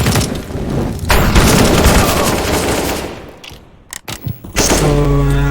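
Loud gunfire and explosive blasts from a CS:GO match, with dense bursts and booming thuds that drop away briefly, then return with sharp impacts and a low rumbling tail.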